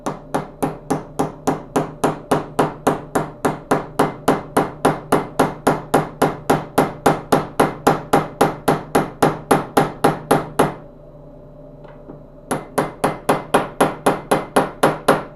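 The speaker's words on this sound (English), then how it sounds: "You want to make sure you're hammering only on the inner race." A deep well socket is hammered onto the inner race of a bearing on a classic Powr-Kraft router, with rapid, steady sharp metallic blows that pause for about two seconds before resuming at the same pace, loud and close.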